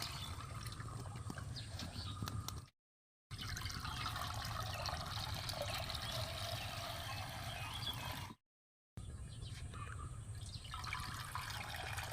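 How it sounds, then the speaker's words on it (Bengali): Simpata (bean) leaves boil in water in a covered pot, a steady close rushing, bubbling hiss that runs continuously with two brief dropouts. "জল দিয়ে ভালো করে সেদ্ধ করে নেব"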